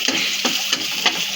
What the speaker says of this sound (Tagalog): magigisa po tayo ng ginili na ilalagay po sa dynamite. Lalagay natin guys ang bawang.